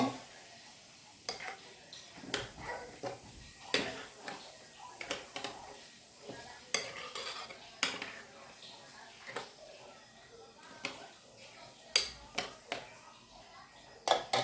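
Chicken marinade being mixed with Sprite in a bowl: soft, irregular clinks and taps of a utensil against the container at close range, under a speaking voice.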